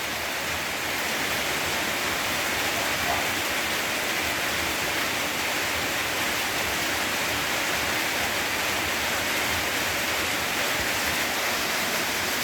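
Steady rain falls outside on a morning after a whole night of downpour, a dense, unbroken hiss that holds at an even level throughout with no voices or other sounds.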